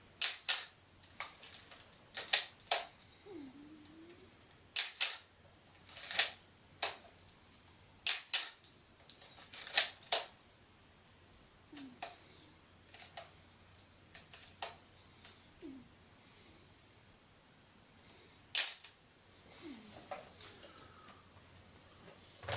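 A 35mm film camera being loaded and wound, giving sharp mechanical clicks and snaps in scattered bursts with small ratcheting winds between them, close and fairly quiet with no talk.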